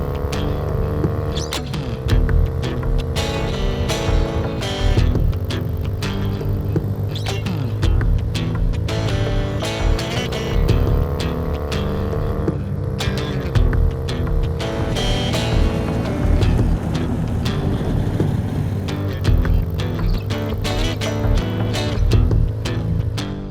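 Motorcycles pulling away together on a group ride around Santa Barbara, a steady throbbing engine drone with a low hum that stays loud and continuous throughout, with no talk.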